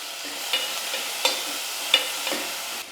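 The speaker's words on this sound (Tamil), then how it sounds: "வெங்காயம் தக்காளியெல்லாம் நல்லா வதங்கிடுச்சு" Onions, tomatoes and curry leaves sautéing in a pan, a steady close sizzle with a few sharp spatula scrapes and clinks.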